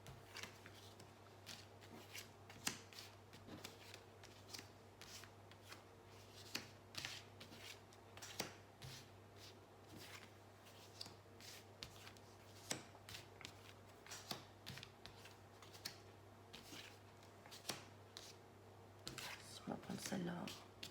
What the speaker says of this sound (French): Donc, tirage à 15 cartes pour les béliers.